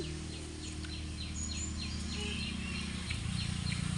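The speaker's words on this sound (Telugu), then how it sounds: "అడవిలో కాబట్టి ఈగలు కడుతున్నాయండి" Flies buzz in a low, droning hum in a forest, with repeated bird chirps scattered over it in a quiet outdoor setting.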